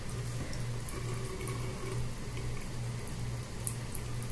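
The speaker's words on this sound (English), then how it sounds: "Let me put water on it." Tap water runs steadily onto eyeliner being tested on skin, a continuous close splashing flow with a low steady hum beneath and no speech.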